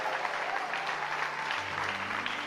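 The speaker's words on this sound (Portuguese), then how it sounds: "E pega o pandeiro, aplauda Jesus aí" A church congregation claps together in a steady, fairly faint wash of applause, with a low musical hum underneath.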